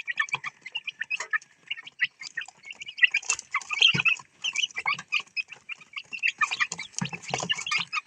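Young backyard chicks around 37 days old peep and cluck continuously in a busy, overlapping chorus, close by, with a few louder calls standing out and no talking.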